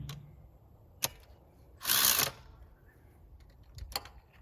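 A ratchet clicks briefly on a spark plug socket in a Honda Civic engine, with one short burst of rapid ratcheting between a few isolated metallic knocks, close and fairly quiet.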